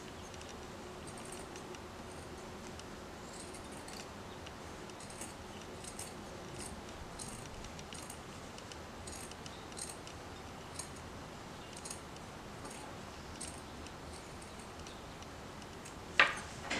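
Scissors snip through felt circles meant for a playing-card holder lid, quiet intermittent cuts and faint rustling close by, ending with a sharper clack near the end.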